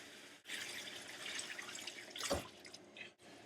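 A wig is dunked and swished in a sink of water, giving faint sloshing and dripping with a brief splash near the end, quiet and close.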